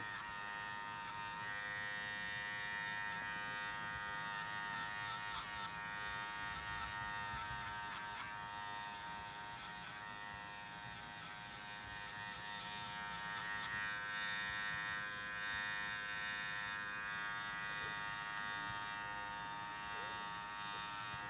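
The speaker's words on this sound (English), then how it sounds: "You want to listen to your clippers too." Electric hair clippers run steadily through a boy's thick hair, a continuous close buzz with faint variations in pitch as the blades move through it.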